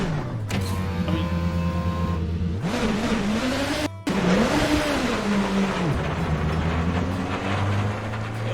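A hypercar engine in a racing video game at Daytona revs high and strains, its pitch climbing and falling through gear changes with a brief cut partway, loud and close from the cockpit.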